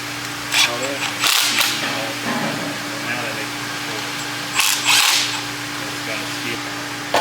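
Power tool driving bolts in a dyno shop, two short bursts of impact-style rattling about four seconds apart, close and loud over a steady background hum, with people talking in the shop.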